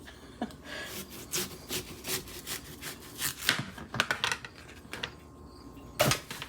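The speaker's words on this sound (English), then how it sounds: "it actually does work really well for slicing a watermelon" A knife slicing through a watermelon, giving scattered close crunchy and wet cutting strokes in irregular bursts at moderate volume, with no talking.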